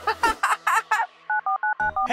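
Telephone keypad dialing tones beep in a quick series of five short, evenly spaced pairs, following a few moments of a voice speaking in a children's home program.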